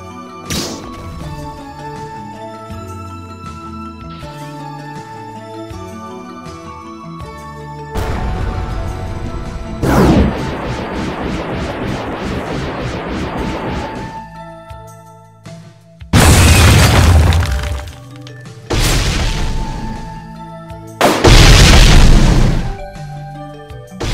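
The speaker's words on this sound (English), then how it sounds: "Now let's see how good self-destruct is." Bomb fruit self-destruct explosions in a video game: several loud, booming blasts with crashing bursts, the last three especially heavy, set over game music and effects, with no talking.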